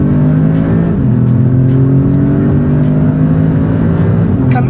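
An Audi S3 8V car engine of 300 horsepower hums loudly and steadily, its pitch shifting as it accelerates and changes gear, heard from close by.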